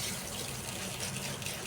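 Water gushes steadily into a container while a summer shikanjbin drink is being made at home, a continuous soft pour that stays fairly quiet and even throughout, with no talking.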